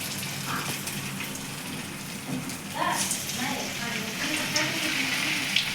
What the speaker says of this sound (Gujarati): હવે આને પછી તળી નાખવાના આમાં.